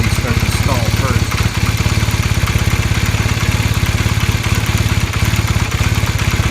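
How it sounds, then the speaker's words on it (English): A 1978 Honda CB400 engine idles with its carburettor mixture set lean, a loud, close, steady chugging of rapid even firing pulses with mechanical clatter that keeps going without cutting out. "The bike will more than likely start to stall first."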